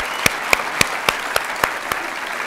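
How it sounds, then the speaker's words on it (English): Sparse, evenly spaced claps ring out in a conference hall, about nine sharp hits spread steadily across the moment with a faint crowd bed beneath, sounding like a few hands rather than full applause. "So give a big round of applause for them."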